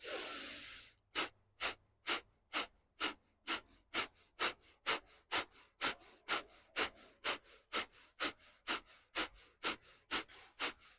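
Kapalabhati yoga breathing: a long inhale, then about twenty sharp, forceful exhalations through the nose in a steady, quick rhythm, close and alone, with no speech.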